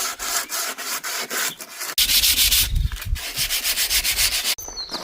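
Fine-grade sandpaper rubs by hand across a vintage wooden cottage chair, steady rhythmic back-and-forth strokes, loud and close, with a brief pause and then faster scrubbing, no voices.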